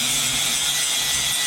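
Someone dresses down a poor weld in a shop, producing a loud, close, continuous abrasive grinding rasp that runs unbroken for a brief moment.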